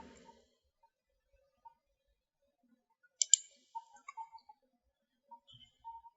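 A computer mouse clicks in a nearly silent room: a quick, faint double click, followed by a few scattered soft ticks.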